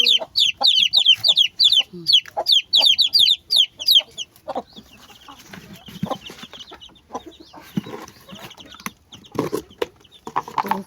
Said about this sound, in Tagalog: Ayan sila. Bagong sisiyo.